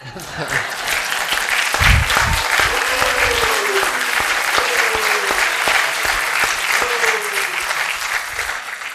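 Sustained audience applause fills a town hall meeting on health insurance reform as a congressman is welcomed, a dense, steady wash of many hands clapping with a voice briefly audible over it.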